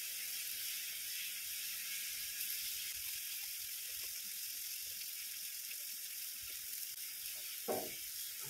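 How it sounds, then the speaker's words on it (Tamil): A soft, steady sizzling bubble of fish curry simmering in a pot, continuous and close, with a few faint clinks near the end. "மீனை சேர்த்து ஒரு நிமிஷம் தான் கொதிக்கணும்"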